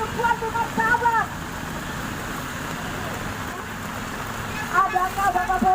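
Steady rain hisses continuously over an outdoor street protest, a dense even wash throughout, with a voice speaking at the start and end.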